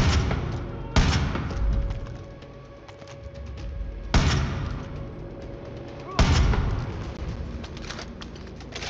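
Three sharp, booming sniper rifle shots ring out in Far Cry 5, spaced a few seconds apart, each followed by a long echoing tail.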